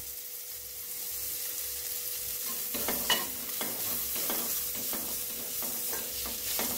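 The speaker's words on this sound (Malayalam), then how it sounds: "ഏകദേശം ഒരു 2 മിനിറ്റ് ഈ രീതിയിൽ നമുക്ക് ഒന്ന് ഇളക്കി കൊടുത്തോണ്ടിരിക്കുക" Drumstick leaves and grated coconut being stirred and sautéed in a pan, a soft frying hiss with a faint low hum, joined midway by light scraping stirs in an irregular rhythm, close and fairly quiet with no speech.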